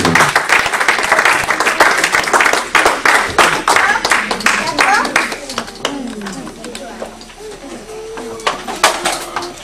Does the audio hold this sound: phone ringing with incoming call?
no